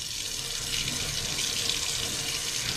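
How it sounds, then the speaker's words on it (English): Tap water runs steadily into a sink during a surgical hand scrub while fingernails are cleaned under the flow, a constant close hiss with no voices. "And you do that under the flowing water."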